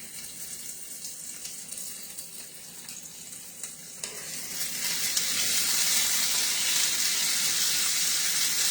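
Frozen peppers hit hot oil in a pan, a steady broadband sizzle that swells louder about halfway through and then holds as a dense, continuous hiss with no talking.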